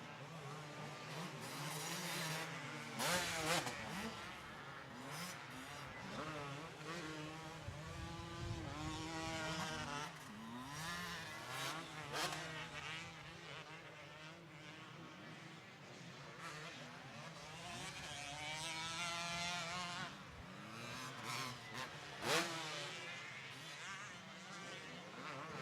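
Two-stroke motocross bikes racing in a 16-plus Sportsman class moto at Winchester Speedpark, with engines whining and revving at a distance, rising and fading as riders pass, and a few louder blats as bikes go by closer.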